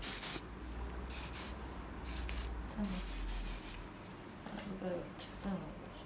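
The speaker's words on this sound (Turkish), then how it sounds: "Sonra spreyimizi sıkıyoruz." Hair spray hisses onto a hair bun in several short, close bursts of spraying, with pauses between them.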